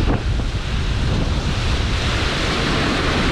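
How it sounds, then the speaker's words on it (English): Ocean waves surge and wash steadily around a sailing boat at sea near dawn, with buffeting wind on the microphone, a dense, continuous roar with no talking. "The waves."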